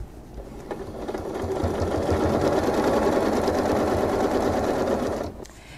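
A sewing machine stitching in the ditch during machine quilting whirs up gradually, runs in a steady, moderately loud hum for several seconds, then stops.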